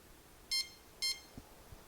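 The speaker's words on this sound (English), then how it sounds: "Beep, beep." An RC car's Toro electronic speed controller gives two short, bright electronic beeps about half a second apart as it powers on, fairly faint over quiet room noise, followed by a couple of soft low knocks.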